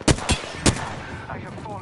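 Gunfire in the battle royale shooter Apex Legends: three or four sharp, loud shots spaced irregularly across a couple of seconds, each a crisp close crack over a steady bed of game ambience.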